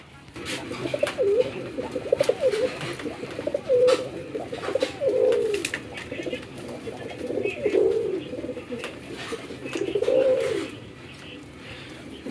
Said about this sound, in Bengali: দেখেন এটা এক জোড়া একদম পিওর আমাদের দেশি গোল্লা কবুতর